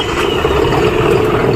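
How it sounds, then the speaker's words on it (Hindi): A 2023 John Deere 5310 CRDI tractor engine running steadily at idle, a loud, close, even diesel rumble with light mechanical clatter and no talk over it. "कोशिश करते हैं हम ट्रैक्टर चला के दिखाएँ आपको"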